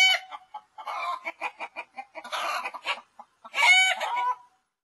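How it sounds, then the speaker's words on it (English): A chicken clucks in a rapid run of short, close, clear calls, ending in a longer, louder drawn-out squawk, with brief silent gaps between phrases. "Chicken."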